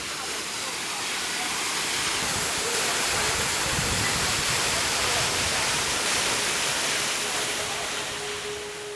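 Jeongbang Waterfall on Jeju pours in a steady, loud, broadband roar of falling water, continuous and close throughout with no voices.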